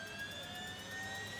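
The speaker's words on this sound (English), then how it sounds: "the jet engine does not provide thrust as it does in an aircraft, but instead drives a shaft, just like in a helicopter" A jet turbine engine that drives the rear wheel of a motorcycle through a shaft gives a steady, high whining roar with sharp tonal whistles, a constant drone heard quietly and without talk.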